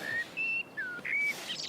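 Bright, thin whistled bird notes ring out in a short series of clear tonal chirps and slurred calls, fairly close, over a soft airy background with no talking.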